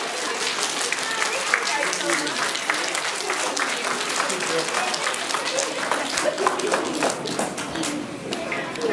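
Audience applause fills a school assembly hall, a steady dense wash of clapping from a large crowd of children and adults that holds for several seconds at an even level, with a few voices mixed in.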